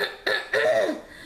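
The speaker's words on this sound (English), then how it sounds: "Trying to clear my throat" A person clearing their throat twice in quick succession, close and fairly loud, with short raspy bursts in a quiet room.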